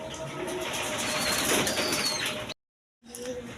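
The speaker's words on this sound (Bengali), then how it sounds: "এক পেয়ার হাই ফ্লাইং গিরিবাস কবুতর আছে" A pair of high-flying Giribaz pigeons coo and flap their wings close by, a continuous rustling flutter with soft calls, broken by a brief silence before resuming.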